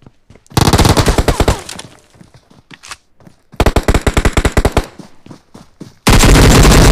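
Loud bursts of rapid automatic gunfire in the mobile battle royale game PUBG Mobile, several fast volleys separated by short gaps with scattered single shots, ending in a sustained roaring blast.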